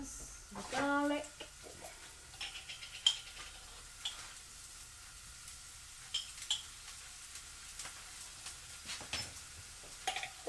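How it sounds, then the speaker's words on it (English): Onions and garlic fry in a small frying pan for nasi goreng, a soft sizzle with occasional utensil taps and stirring clicks, faint under a person talking nearby. "I'm just going to cook up the onions, the garlic."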